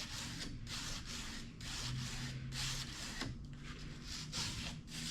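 A blade scraping and trimming masking tape against a 352 motor block being masked for paint, a series of close, dry rubbing strokes repeating over several seconds.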